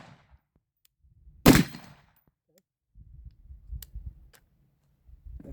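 A single sharp shot from a BCM 11.5 rifle fired on semi-auto, loud and close, followed by quieter low rumbling and handling noise.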